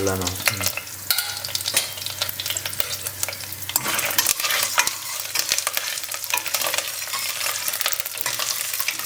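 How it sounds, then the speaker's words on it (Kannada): Garlic, curry leaves and mustard seeds frying in oil in a pan for a Karnataka bassaru and palya meal, a dense continuous sizzle with crackling pops, stirring scrapes throughout, loud and close, with no talk. "ಚೆನ್ನಾಗಿ ಫ್ರೈ ಆಗಲಿ, ಬೆಳ್ಳುಳ್ಳಿ ಚೆನ್ನಾಗಿ ಫ್ರೈ ಆಗಲಿ."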